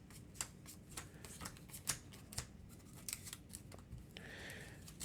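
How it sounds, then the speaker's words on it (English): Cards from an encounter deck in an Arkham Horror board game are shuffled by hand, giving a run of soft riffling slaps and ticks at close range with a short rustle near the end. "With the top 3 cards in the encounter deck, 1, 2, 3, shuffle them up."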